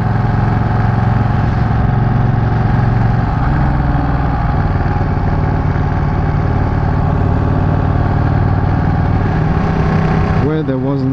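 A Ducati 959 Panigale motorcycle engine drones steadily and loudly throughout while riding near lakes, with no clear breaks.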